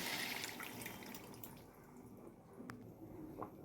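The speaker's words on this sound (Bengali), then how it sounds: "এবারে মাটনটা সিদ্ধ করেছিলাম যে জলটা, ওই জলটাই দিয়ে দিতে হবে" Water left from boiling mutton poured into a cooking pot of browned mutton, making a soft, close liquid splash with gurgling drips that ease off toward the end.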